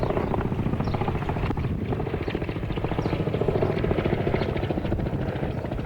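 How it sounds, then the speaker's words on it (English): Security patrol helicopter rotors thump continuously in a steady chopping rhythm, fairly loud and sustained, as if passing overhead, at the ruins of Babylon, Iraq. "The helicopters that you hear in the background are flying security patrol for us."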